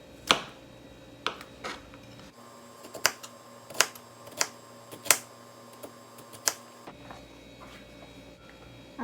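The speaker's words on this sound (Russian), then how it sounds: "Берем огурцы, складываем стопочкой и вот так вот режем соломкой быстро." A knife quickly cuts stacked cucumbers into strips on a board, giving sharp, evenly spaced taps, about ten over several seconds, close but fairly quiet.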